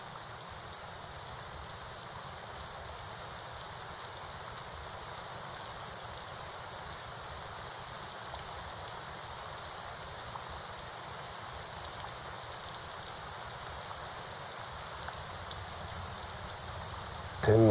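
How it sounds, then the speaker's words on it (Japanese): Heavy rain falling in a dense, unbroken hiss with steady patter on surfaces, loud and constant for the whole stretch, with a brief sharp bump at the very end. "天国までつながってるみたいな雨だな。"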